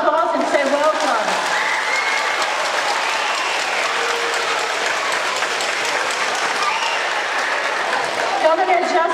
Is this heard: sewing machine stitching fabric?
no